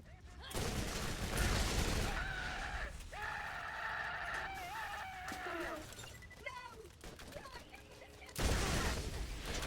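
Submachine gun fire in the Borderlands video game, bursts of rapid shots amid chaotic game effects and shrill cries, loudest at the start and again near the end.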